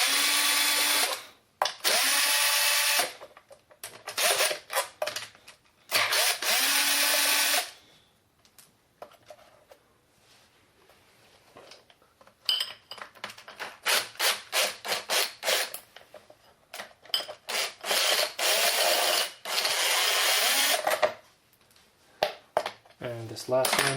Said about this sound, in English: So I'm going to go ahead and remove these bolts,